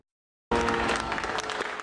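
Applause breaks out abruptly after a half-second of silence, a dense burst of clapping from a crowd that continues steadily, moderately loud, at a Formula 1 qualifying setting.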